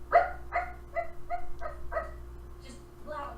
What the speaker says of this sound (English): just loud yapping the whole time